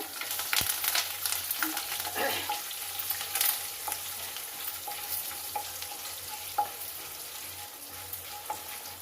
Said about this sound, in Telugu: ఆవాల గింజలు అన్నీ వేసేసాను.